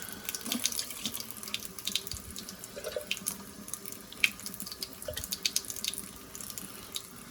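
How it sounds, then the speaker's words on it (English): Water splashes and trickles into a rain gauge, with uneven gurgling and dripping, close by and fairly quiet, with no voices. "then we're going to pour it up,"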